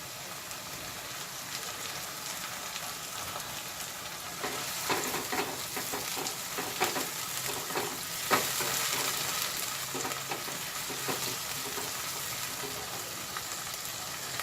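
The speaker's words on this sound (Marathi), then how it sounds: "आता मी इथे टोमॅटो प्युरी घालून घेते आहे" Tomato puree hitting a hot pan while making red sauce pasta, giving a steady close sizzle and frying hiss with a few stirring scrapes and spatters, no voices.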